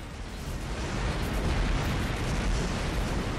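Missile explosions rumble in the space combat game Rebel Galaxy, a continuous, loud wash of deep blasts and bursts that builds slightly and stays heavy for the whole stretch.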